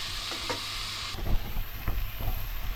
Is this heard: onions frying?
yes